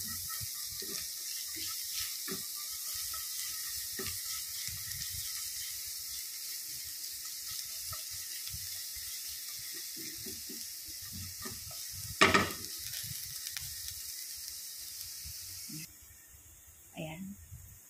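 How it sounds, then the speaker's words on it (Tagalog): Garlic sautéing in a pan gives a soft, continuous sizzle with occasional stirring clinks and one sharper scrape, while a voice talks intermittently over it. "magigisa na ako guys ng bawang"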